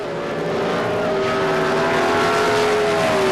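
A 1977 NHRA Summernationals drag race pits a Ford Pinto against a Chevrolet, with loud, steady, high-revving engine roar that rises slightly in pitch as the cars run down the track.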